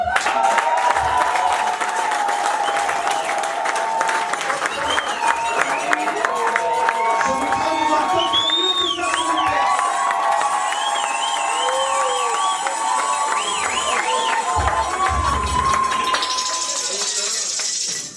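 Guests at a civil wedding ceremony in a hall break into loud applause mixed with cheers, whoops and shouts, a dense continuous roar of clapping with voices calling out throughout and a clink or two.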